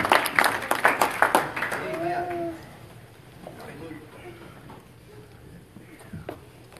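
A church congregation claps their hands in a burst of quick, overlapping applause that fades out after a couple of seconds, leaving a quiet room with faint murmurs and rustling.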